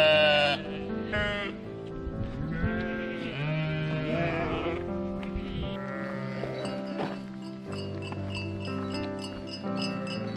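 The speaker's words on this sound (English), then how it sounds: "Some sheep coming through." Flock of sheep bleating repeatedly and close by on a hiking trail past old ruins in Israel, overlapping calls layered into a busy, continuous chorus.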